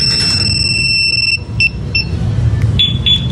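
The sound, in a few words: motorcycle security alarm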